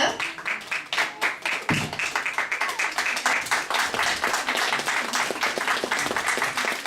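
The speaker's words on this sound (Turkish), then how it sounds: "Alkış." Audience applause at a school class event, a steady burst of many hands clapping that runs the whole time, dense and fairly close, with a brief thump early on.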